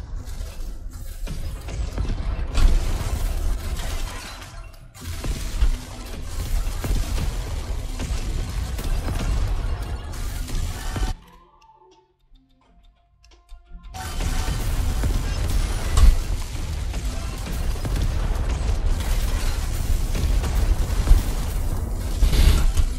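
Tesla gun firing in the zombie survival video game Yet Another Zombie Survival, a dense run of crackling, mechanical electric bursts with low rumble, breaking off for a brief quiet gap before resuming just as loud.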